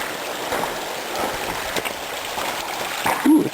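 Water flows down a stream in Icehouse Canyon, a steady close rushing and trickling that runs continuously with no talk.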